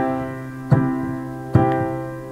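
Piano striking sustained chords in steady quarter notes while the sustain pedal is changed, two firm chord attacks each ringing on smoothly into the next, close and resonant with no talking.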